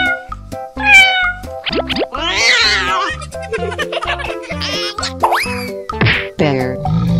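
A cat meows repeatedly, loud and close, the cries mixed with bouncy cartoon boings and thwacks over a playful musical backing.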